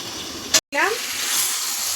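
Mutton with papaya and potato sautés in oil, a close hissing sizzle broken by a brief loud clatter and a short silence, then the frying resumes steadily.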